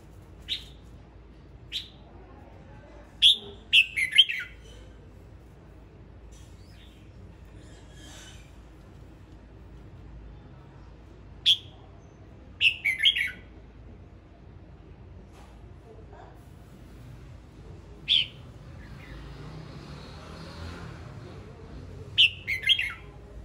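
A male red-whiskered bulbul sings short, bright whistled phrases in scattered bursts with quiet gaps, close and clear over a faint low background hum.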